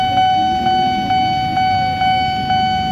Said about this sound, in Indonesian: Oh, ada kereta lagi teman-teman.